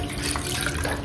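Water runs briefly from a tap into a cup, to be mixed with curd, making a short, steady, close splashing flow.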